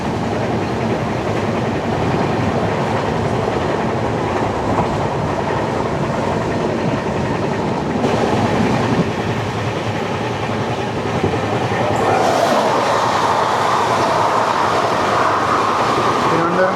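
Aboard the Gandhidham–Tirunelveli Humsafar Express, steady rumbling wheel noise with clickety-clack runs on throughout, growing brighter and louder toward the end.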